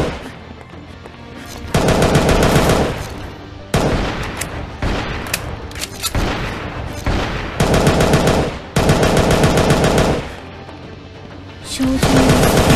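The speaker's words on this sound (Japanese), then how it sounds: "M16A4、出撃。 照準を下げる。 発射。" Loud, close M16A4 rifle fire from the Angel Squad mobile game comes in long sustained automatic bursts separated by brief pauses, with occasional game voice lines between them.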